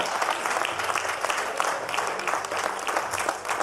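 A church congregation applauds, a dense, even clatter of many hands clapping steadily for several seconds with no pause, fairly close and filling the room.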